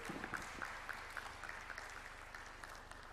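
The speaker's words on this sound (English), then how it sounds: "Let's give him a big, big round of applause." Conference audience applauding the guest of honor, a faint, distant, even wash of clapping from a large hall with a few sharper claps standing out, continuing steadily for several seconds.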